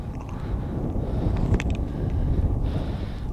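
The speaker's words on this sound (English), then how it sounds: "This wind's killing my battery too." Wind blows steadily across a mountainside on Montana's Rocky Mountain Front, a loud, continuous low rumble buffeting the microphone for a few seconds with no other sounds.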